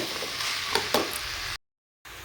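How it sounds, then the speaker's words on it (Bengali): Vegetables with tomato fry in a pan, a close steady sizzle with a couple of sharp stirring scrapes, then the sound cuts out briefly before the sizzle returns. "সবজিটাকে আমি ভালোভাবে নাড়িয়ে চড়িয়ে একটু ভাজা ভাজা করে নেব"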